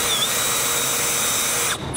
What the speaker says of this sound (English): Just gonna use a step drill bit